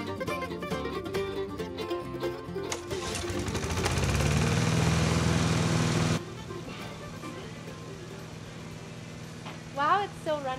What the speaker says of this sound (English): Wow, it's still running. Still running. I really like that lawnmower.